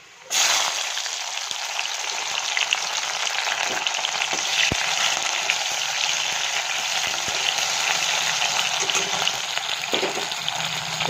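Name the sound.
chopped tomatoes frying in pan for chickpea curry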